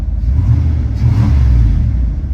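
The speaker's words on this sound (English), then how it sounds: "Let's give it a little rev, see how it sounds." An older car's 5.2 V8 engine is revved up from idle, a deep, loud rumble swelling and then settling back, heard close and alone.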